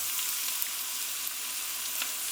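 A whole medium bulb of garlic sizzles in a hot pan, a steady bright hiss with faint crackles, close and even throughout without speech.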